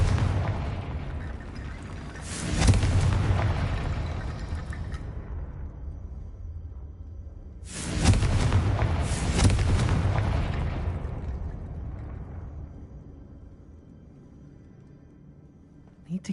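Two heavy blasts of the Confringo explosion spell in Hogwarts Legacy boom out several seconds apart, each a sharp burst followed by a long rumbling decay into quiet.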